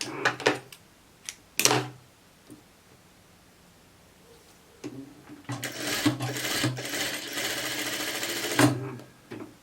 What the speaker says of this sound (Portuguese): Eu passo duas costuras como se fosse um arremate.